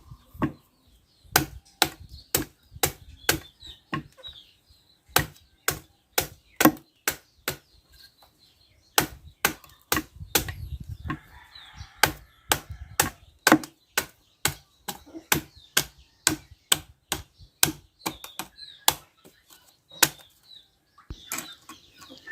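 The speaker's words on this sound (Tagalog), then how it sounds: "binubuksan na po natin yung bagong kuha lang ng bunga ng nyog para makuha yung laman at tubig ng nyog" A freshly picked coconut is hacked open for buko juice, sharp chopping blows landing in irregular bursts of single and double strikes, close and loud, with brief pauses between groups and no talking.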